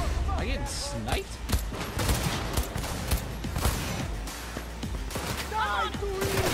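Gunfire in the video game Cyberpunk 2077, scattered sharp shots and bursts of fire mixed with game effects, under frequent talking.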